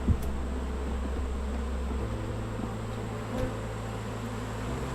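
Honeybees drone in a low, continuous buzz during a late-July hive inspection, steady and fairly quiet throughout with no talking.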